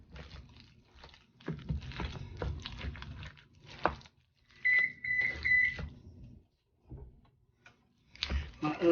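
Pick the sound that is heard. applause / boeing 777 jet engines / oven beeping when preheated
oven beeping when preheated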